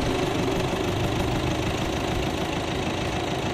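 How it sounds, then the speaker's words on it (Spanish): A 2016 Alfa Romeo Giulia engine runs with a steady, loud, gruff drone that has a clattery, knocking edge much like an industrial vehicle. The sound holds unbroken throughout, with no voices. "El motor es ruidoso y se oye tanto fuera como dentro del habitáculo."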